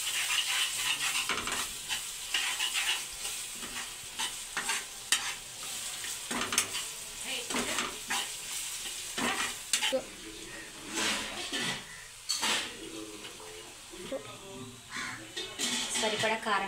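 Onions with ginger garlic paste fried and stirred in a pan for a chicken cashew curry, with soft sizzling and repeated scraping strokes of a spatula against the pan; a person talks over the cooking.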